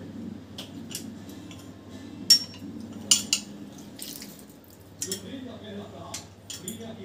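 Metal spoon scraping and clinking in a pan while lemon juice is stirred into street-style pav bhaji, several sharp clinks over a low steady background hum, with a voice talking at times.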